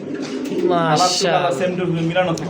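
Pigeons, including large Pakistani bloodline birds, coo in a close, steady run of soft throaty calls, with people talking over them.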